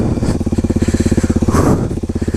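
A motorcycle engine on studded tires in snow putters close by in a fast, even, throbbing rhythm, with a brief swell partway through.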